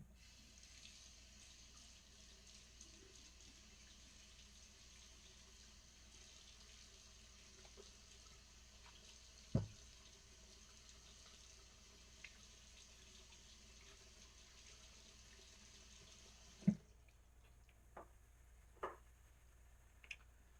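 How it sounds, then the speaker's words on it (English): A bathroom tap runs quietly and steadily for a straight-razor shave rinse, a faint continuous water hiss, broken by a few soft knocks and clicks before the flow stops near the end, followed by scattered small taps. "And let me rinse off a little bit,"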